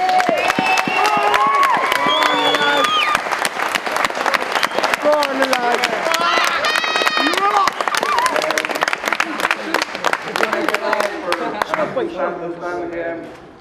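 A crowd at a minor football final presentation claps and cheers for three men, with loud continuous clapping, whoops and shouting voices before it thins out.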